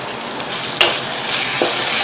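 Potatoes and egg cook in masala in a pan with a steady, close sizzle. A sharp clink of a utensil and a short scrape break in, and no one speaks.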